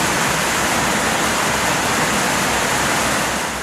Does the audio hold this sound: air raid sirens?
no